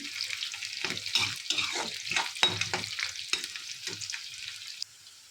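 Small fish curry ingredients sizzling and frying in a pan on a gas stove, with a steady hiss broken by repeated scraping stirs from a ladle, close and moderately loud, then quietening near the end.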